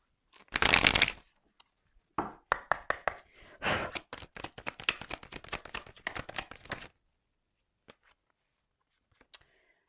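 Tarot cards are shuffled in a quick riffle, followed by a run of rapid dry slaps and flicks as cards are cut and drawn, close and fairly quiet, then a few isolated taps before falling silent.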